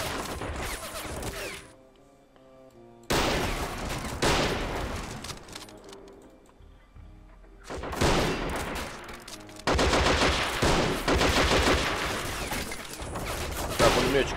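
Bursts of gunfire and machine-gun fire in a Warsaw Uprising war video game, loud rapid volleys separated by brief quiet gaps, with occasional voices.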